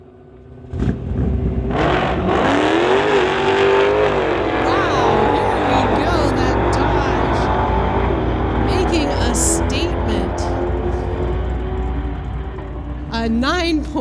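2016 Corvette drag racing a Dodge on a street-legal drag strip, with loud engines roaring and revving through rising gear changes, then fading as they run down the track, with an announcer talking over it.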